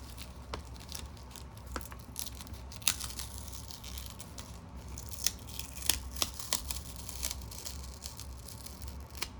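Sticker being peeled off vintage Animaniacs paper gift wrap: a steady soft crinkle with scattered sharp tearing and crackling snaps, close and fairly quiet, with no one talking.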